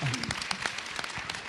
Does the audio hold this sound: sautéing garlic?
no